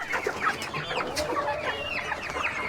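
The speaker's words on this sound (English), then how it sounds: "the hen and the rooster there" Hen and rooster clucking close by on a small farm, a string of short, rapid clucks and squawks in quick succession with no talk.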